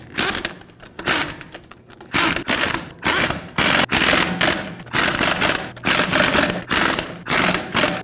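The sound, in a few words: socket wrench tightening lug nuts on a Ford F-150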